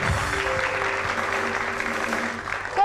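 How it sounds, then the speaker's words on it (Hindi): A studio audience at a Hindi television show claps in sustained, dense applause, even in loudness throughout and close to the microphone. "इन सब के लिए एक बार फिर बहुत सारी तालियां।"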